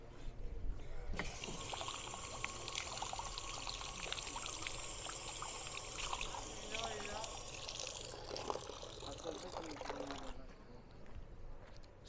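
Water trickles and splashes steadily in an outdoor spot in the city of Limoges, France, a continuous watery patter heard under people talking nearby.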